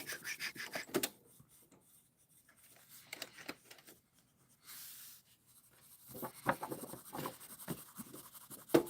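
Repeated scratchy strokes of a black pencil scribbling to color in on paper, close and fairly quiet, in uneven bursts with short pauses.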